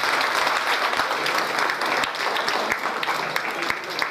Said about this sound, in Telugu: Everybody clap please.